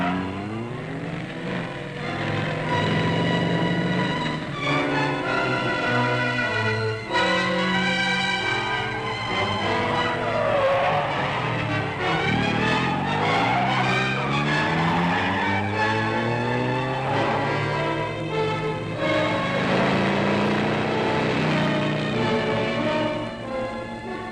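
Car chase in a 1955 film, with a car engine roaring and tires skidding at a steady loud level, mixed with a dense orchestral-like score throughout.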